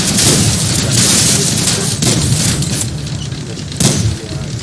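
A Panzer 38H tank gun firing in the World of Tanks video game, loud booming shots with rumbling tails, three heavy blasts roughly a second or two apart, with no talk over them.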